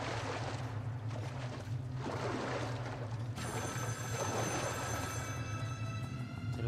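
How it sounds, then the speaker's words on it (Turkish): A telephone in the video game Metro Last Light Redux rings with a repeating electronic trill over a low background hum, fairly faint. "Telefon çalıyor."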